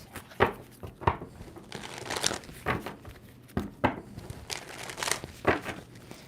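Tarot cards are shuffled in quick bursts, papery riffles and slaps repeating roughly every half second to second, close and fairly loud, with no voice over them.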